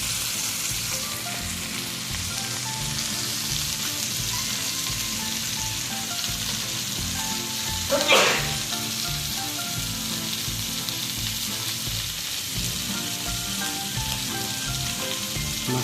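Hilsa fish sizzles and crackles steadily in hot oil for mustard hilsa, a close, continuous frying hiss with one brief sharper burst of spatter midway and no talking.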